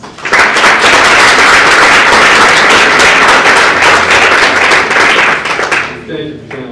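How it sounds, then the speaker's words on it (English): Audience applause at a college Safe Zone Coalition reception greeting a speaker, loud dense clapping that holds steady for several seconds before tapering off, with a voice starting to speak as it fades. "Please come round of applause."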